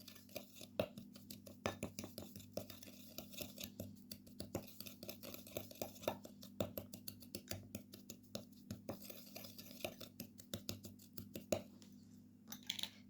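A spoon stirring baking soda with other ingredients in a small bowl, producing steady, rhythmic light scraping and clinking taps close by and fairly quiet, with no talking.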